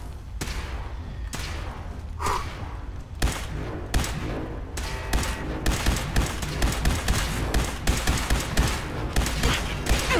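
Rapid bursts of gunfire in a Fallout 4 fight against a legendary Deathclaw, loud and sustained with a dense fusillade of shots and thumps, growing into steady rhythmic volleys toward the end.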